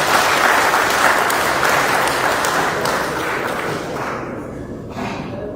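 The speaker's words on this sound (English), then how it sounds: "I thought grateful officers would give the Chief of Army Staff round of applause" Sustained, loud round of applause from army officers, steady dense clapping that slowly tapers off near the end.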